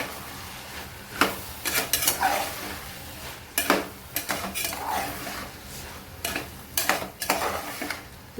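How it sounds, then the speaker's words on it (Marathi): Vegetables stirred in a pan with a spoon, giving repeated scraping clinks against the metal in short bursts amid a soft sizzle, close and fairly clear with no talk. "मिक्स करून घेऊया"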